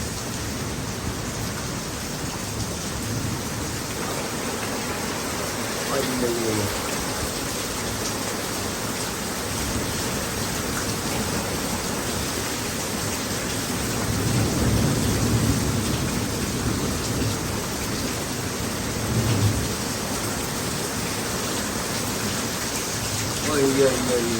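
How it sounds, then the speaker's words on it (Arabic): Steady heavy rain hisses throughout in Marrakech, with low thunder rumbling faintly in the background and swelling a few times. "ما زالت الأمطار قوية جدا من مدينة مراكش"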